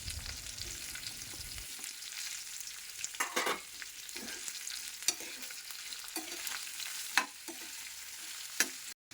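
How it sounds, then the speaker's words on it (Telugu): Ivy gourd pieces frying in hot oil and being stirred in a pan for a coconut fry, with a steady soft sizzle and repeated scraping stirs at an irregular pace, close and moderately quiet. "కట్ చేసి పక్కన పెట్టుకున్న దొండకాయని వేసి వేయించుకోవాలి"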